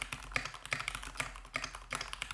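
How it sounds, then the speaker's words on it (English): Steady typing on a Keychron K8 Pro mechanical keyboard fitted with Gateron G Pro Brown switches: quick, uneven clusters of close, crisp keystrokes with a few louder presses, and no talking. "Now I'm typing on the Keychron K8 Pro with Gatoron G Pro Browns while I talk"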